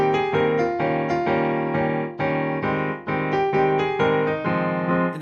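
A piano plays the Monsters Inc. theme with steady repeated-chord accompaniment, the chords pulsing in a bouncy, evenly spaced rhythm under a melody, close and fairly loud without gaps between strikes.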